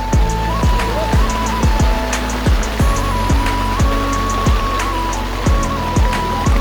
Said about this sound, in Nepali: पानी मस्त पऱ्यो है, पानी मस्त पऱ्यो।